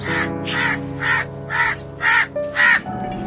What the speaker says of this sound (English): C-R-O-W, crow.